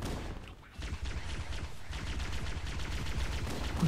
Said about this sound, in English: You see how fast the grunts just fire their pistols?